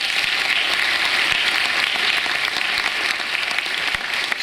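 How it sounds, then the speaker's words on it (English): Dense, steady applause at a college graduation ceremony fills the whole stretch, many hands clapping at once in a large room without letup. "Another round of applause for Mary Schwartz."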